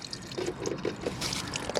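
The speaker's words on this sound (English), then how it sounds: "you can simply just turn and this will just open and drain out." Waste water drains from the tank valve of a Hymer Classic B654 motorhome with close, fast trickling and dripping, small irregular splashes running together, and no voices.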